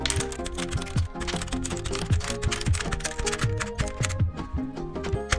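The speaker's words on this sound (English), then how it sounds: "That being said, keycaps off first." Keycaps are pulled off a Koi61 budget keyboard with a keycap puller, a fast run of clicky plastic taps and clacks close up over faint background music.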